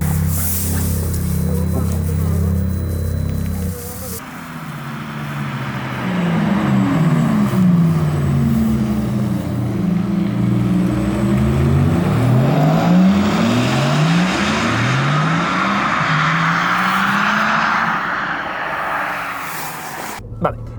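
Porsche Taycan Turbo electric drive sound, a loud synthetic whine that rises and falls in sweeping tones as the car accelerates, with someone talking over it.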